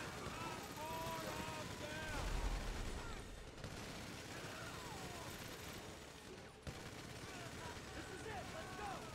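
Bursts of rapid gunfire and explosions in a busy Grand Theft Auto V heist soundscape, with whistling tones and a sharp crack near the middle.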